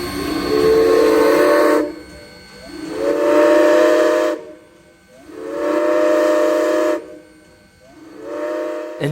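Great Smoky Mountains Railroad steam locomotive 1702 sounds four long steam whistle blasts, each a sustained chord lasting about two seconds with short gaps between, loud and hissing with no talk.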